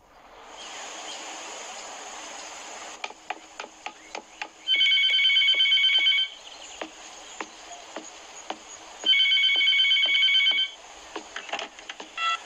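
A telephone rings in two clear electronic trill bursts separated by a pause, over a quiet background with faint clicks and a steady high tone.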